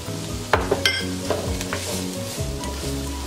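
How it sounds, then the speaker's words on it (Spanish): Onion hits hot oil in a pan for shrimp rice, a crackling sizzle with sharp spatula clinks and stirring scrapes over a low rumble, close and busy, no speech. "Entonces yo le voy a echar la cebolla."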